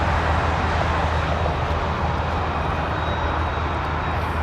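A Porter airliner arriving at Toronto Pearson airport produces a loud, steady jet roar, broad and rumbling with a faint high whine, holding constant without other sounds on top.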